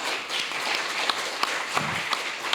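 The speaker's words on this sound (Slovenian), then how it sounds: "tako da je aplavz tudi zanje." Audience applause at a Slovenian gathering on food production, a steady wash of clapping with a few sharper individual claps standing out near the end.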